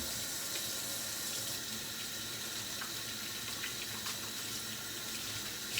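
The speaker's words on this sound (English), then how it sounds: "So we're going to start out by washing our hands." Tap water runs steadily into a sink during handwashing before cooking, a constant close hiss at even loudness throughout, with occasional faint knocks and no speech.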